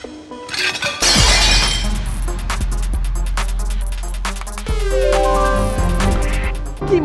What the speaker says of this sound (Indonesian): Mecahin piring lah, gelas lah.